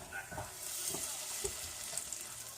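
Butter heating in a pan, a soft, fairly faint sizzle and crackle running steadily, with a few light clinks near the start.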